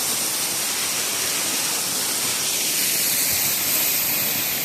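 A waterfall roars from very close by, a dense, steady wall of rushing, hissing water spray that stays loud and unbroken throughout, with no voices.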